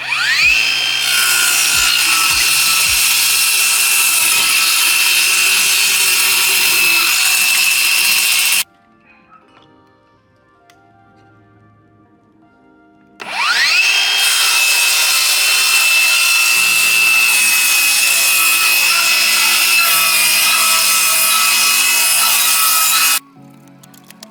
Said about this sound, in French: j'utilise la scie circulaire avec les règles pour faire une coupe droite